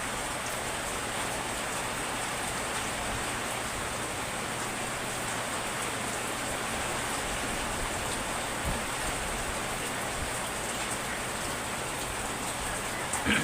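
Steady rain falling on a rainy day, a constant even hiss of drops on surfaces that continues unbroken throughout.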